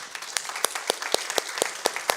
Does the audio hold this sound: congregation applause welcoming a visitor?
yes